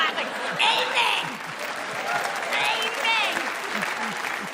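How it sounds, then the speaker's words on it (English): Audience applause during a comedy debate show, a sustained crowd clapping at moderate distance underneath someone speaking continuously. "Look, I got someone clapping."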